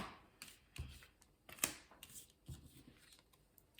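Tarot cards are laid down over other cards on a table, giving faint, scattered taps and soft slaps with light paper rustles in a quiet room, without talk.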